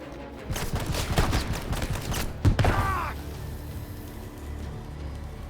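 Shotgun blasts and gunfire trade back and forth in the video game Left Alive, a cluster of sharp shots followed by a heavy thud and a mechanical whir that fades out.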